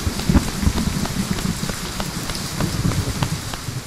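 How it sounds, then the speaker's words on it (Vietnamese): Steady rain pattering on surfaces outdoors with scattered drops, continuous and fairly close, no talk. "À, mưa rồi."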